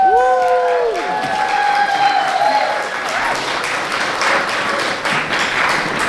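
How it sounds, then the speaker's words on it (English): A crowd at a steampunk costume contest breaks into applause, starting under a few bright cheers and whoops and settling into steady, dense clapping. "Give them a big round of applause."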